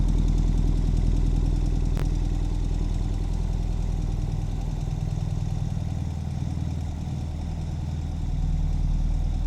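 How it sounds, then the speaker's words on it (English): A 2021 Ural Gear Up motorcycle exhaust idles with a deep, steady, throbbing rumble up close, continuous throughout with no voices. "Nice sound from the exhaust."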